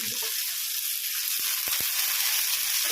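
Onion and garlic fry in hot oil with a steady, bright sizzle throughout and a few faint clicks from the pan near the end, with no voices.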